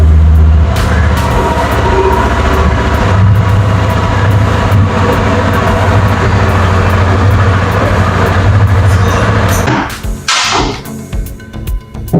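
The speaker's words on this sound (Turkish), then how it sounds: "Motoru çalıştırıyoruz." A Yamaha R25 motorcycle engine runs at a loud, steady idle close by, with a constant low rumble that drops away abruptly near the end, leaving a few faint clicks and knocks.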